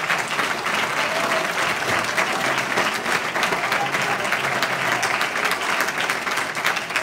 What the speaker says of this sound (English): would you clap your hands right now?